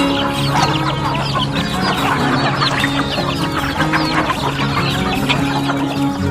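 A flock of free-range village chickens clucks loudly and continuously while feeding on black soldier fly larvae at a poultry farm, many overlapping calls close by.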